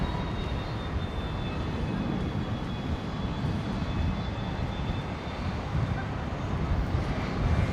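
Jetstar airliner departing Brisbane airport, flight bound for Launceston in Tasmania, a steady broad engine roar that holds loud and constant throughout, with wind noise over the microphone.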